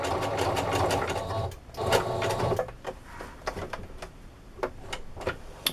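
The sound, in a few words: sewing machine stitching zigzag on microfiber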